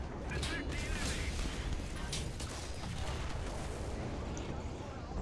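A massive tank cannon in the video game War Thunder booms amid loud, rumbling battlefield noise, the deep roar sustained across the short stretch.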